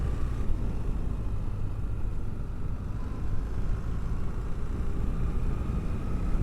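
Steady low engine drone from a BMW R1300GS boxer twin while riding, mixed with continuous wind rush, no speech over it.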